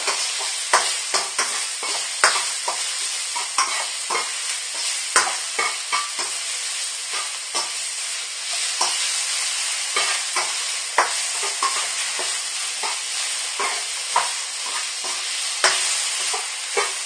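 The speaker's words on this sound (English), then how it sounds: "The sizzling from the pan might be a bit loud" Pork sizzles loudly in a hot frying pan for a stir-fry, a constant crackling hiss punctuated by frequent sharp pops and spatters, with no voices.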